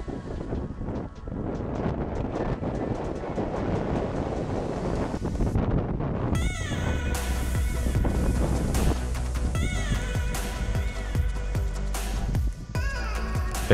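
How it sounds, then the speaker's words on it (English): Strong, rising wind over the river IJssel in the Netherlands with waves slapping, a continuous gusty roar buffeting the microphone, loud and close with no voices. "On our way to the ramp, we got surprised by the waves. The wind came in quickly and it gained power a lot."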